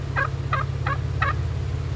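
A turkey gobbles four times in quick, evenly spaced bursts, close and clear, over the steady low rumble of an idling off-road vehicle at Windrock Park.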